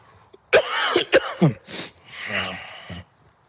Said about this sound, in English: A bit of a cough this morning.